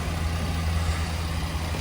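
The 3.8-litre gasoline engine of a 2023 Kia Telluride runs as a steady low idle with an even, rumbling hum that stays constant and close, with no voices over it.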